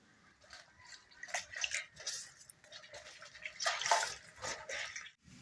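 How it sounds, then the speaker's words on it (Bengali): Taro leaves being washed whole by hand in water, soft splashing and dripping swishes that rise and fall in irregular bursts, close and fairly quiet. "এখন আমি শাকগুলো ভালোভাবে পরিষ্কার করে নেব ধুয়ে নেব সুন্দরভাবে গোটা গোটাই ধুয়ে নেব"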